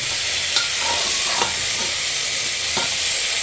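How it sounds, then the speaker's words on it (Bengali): Vegetables fry in oil with turmeric and salt for khichuri: a steady, dense sizzle hisses throughout, broken by a few soft stirring knocks, with no one speaking. "হলুদ নুন দিয়ে একটু ভালো করে ফ্রাই করতে হবে"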